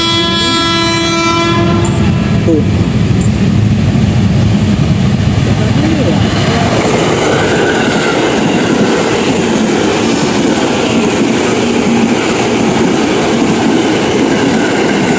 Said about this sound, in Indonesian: Lengkap dengan semboyan 21 kereta api Menore.